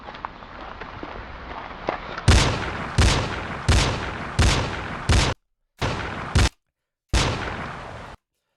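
A series of loud, sharp gunshots from an old amateur film, about seven evenly spaced blasts with ringing tails, some abruptly cut off by silent gaps, following a quieter stretch of muffled background noise.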